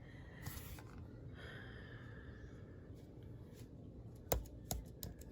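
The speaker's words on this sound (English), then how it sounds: "I'm typing just any numbers." Keys tapped on a laptop keyboard while entering numbers, a faint hum with a few scattered soft clicks, then sharper, louder keystrokes bunched near the end, close and without talk.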